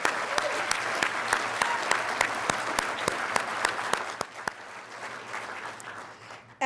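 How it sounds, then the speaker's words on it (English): An audience applauds at the 2024 Oregon Hospitality Industry Awards ceremony, with a steady wash of clapping that fades toward the end. "I think that deserves a round of applause as well."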